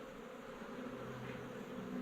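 Dense, steady buzzing of many honeybees from a colony living inside a storm-felled tree, a continuous close hum with no voices.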